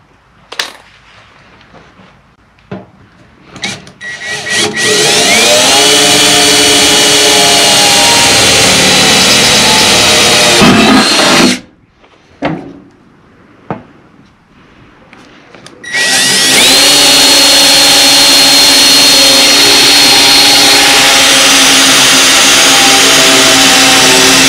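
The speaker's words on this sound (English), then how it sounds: "So I'm gonna go ahead and drill these two holes, and we'll get it fitted up" Power drill boring two holes through a Kubota L-Series tractor toolbox, two long sustained loud whining runs with short bursts and pauses between them, no talking.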